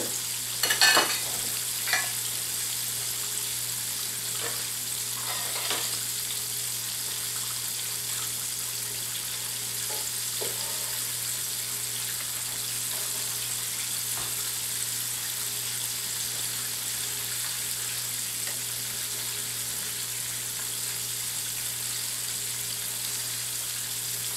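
Butterflied shrimp sizzle steadily in hot oil, with a constant hiss broken by a few soft pops and clinks of stirring.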